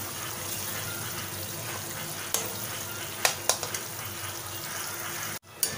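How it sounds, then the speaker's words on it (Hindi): Ghee made from milk cream cooking on a high flame, a steady close sizzle and crackle with a few sharp pops and a brief scrape near the end. "हाई फ्लेम पर हमारे घी को पकते हुए लगभग 5 मिनट हो चुके हैं।"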